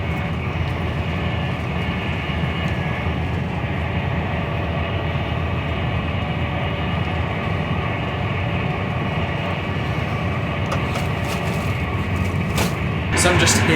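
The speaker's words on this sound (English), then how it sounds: "So I'm just here between the carriages on this Class 390." A Class 390 train running at speed, heard from the gangway between carriages: a loud, steady rumble with humming tones and rattling, plus brief clattering bursts near the end and a person speaking over it.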